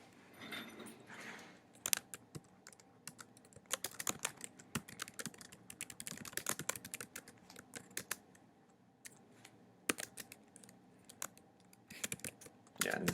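A computer keyboard clatters as a listing title is typed, with irregular bursts of crisp close keystrokes separated by short pauses in a quiet room.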